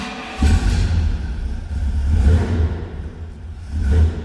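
1971 Pontiac LeMans Sport Convertible engine with a manual choke, starting and then rumbling at a loud, close idle with several rising revs.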